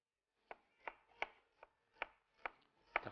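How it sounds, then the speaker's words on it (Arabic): Knife chopping onions on a board in seven sharp, evenly spaced strokes, close and clear with quiet gaps between, no talking. "تقطيع سريع."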